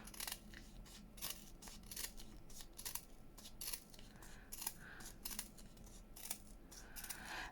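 Scissors snip through fabric trim for junk journal embellishments, a steady run of crisp, close cuts repeating every half second or so over a low background hiss.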